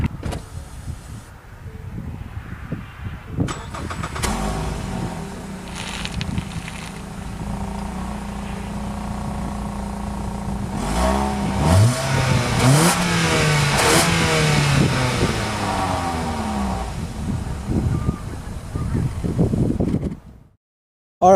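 A 2016 Ford Fusion's 2.5-liter engine cranks and starts, idles, then revs up loudly several times with rising and falling roars before shutting off.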